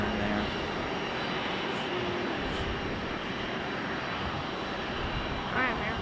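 A Lufthansa airliner on final approach, making a wide turn, gives a steady, moderately distant jet engine drone that stays even from start to end, with a voice speaking faintly over it.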